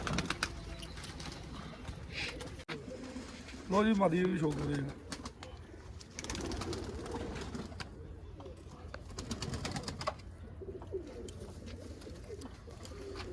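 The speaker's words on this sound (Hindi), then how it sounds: "लो ये कुछ बड़े कबूतर" Pure Indian pigeons, large birds, give a soft throaty burst of cooing partway through. Bird clatter and background noise carry on around it, and someone speaks over much of it.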